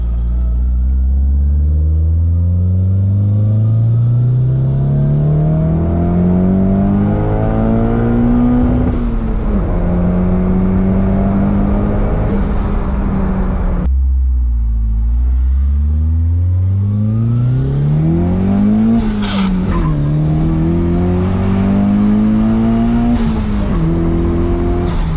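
A Nissan CA18DET-powered car revs hard and loud toward redline, pitch climbing steadily, dropping back, then surging up again in a second pull with a rough, droning engine note throughout.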